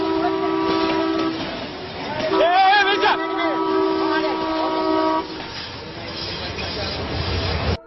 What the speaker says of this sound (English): another train fast approaches. It lays on the horn